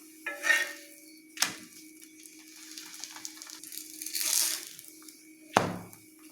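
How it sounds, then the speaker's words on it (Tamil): Parotta frying in oil on a pan over a slow flame, being flipped and pressed, with soft sizzling and a few sharp scraping knocks of the spatula against the pan, no voices. "ஸ்லோ ஃப்ளேமில் வச்சு இது போல் திருப்பி திருப்பி போட்டு அழுத்தி அழுத்தி விட்டால் நல்லா உள்ளெல்லாம் குக் ஆகிடும்."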